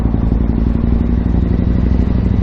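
Yamaha MT-01 motorcycle on a morning commute around Taunton, Somerset, its big engine giving a steady, loud, continuous low rumble close by with some rattling clatter, barely past third gear.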